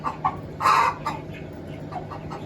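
Golden broiler chickens clucking nearby in short bursts in a poultry house, one louder squawk standing out, over a low steady hum.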